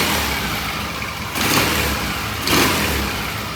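A 1978 Triumph T140 motorcycle engine idles steadily close by after its carburetor pilot mixture and idle are set, a continuous rough rumble with slight swells in level.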